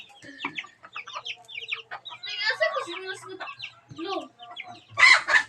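Chickens clucking and calling nearby with bursts of fowl chatter, ending in a louder squawking call, over a busy yard with faint talk.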